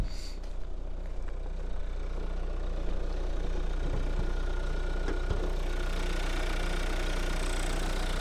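A Dacia Duster engine idles steadily at close range after 75,000 km, a constant low rumble with a faint mechanical ticking running through it, no voices.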